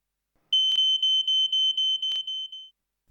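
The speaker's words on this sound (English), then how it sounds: "the multi-sensor has entered the alarm state" An Ei Electronics multi-sensor fire alarm sounding, a loud, piercing high-pitched tone pulsing in rapid, evenly spaced beeps for about two seconds before stopping.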